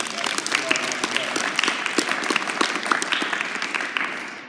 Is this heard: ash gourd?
no